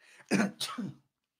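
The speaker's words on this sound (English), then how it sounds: "Yeah, that was a sneeze." A single sharp sneeze bursts out up close, in two quick parts, followed by silence.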